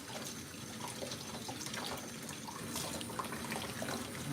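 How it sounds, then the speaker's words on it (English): Running tap water splashes steadily while a doll's hair and body are rinsed at a sink late at night, a soft continuous wash with no talk. "Time to rinse her hair. Rinse her body too."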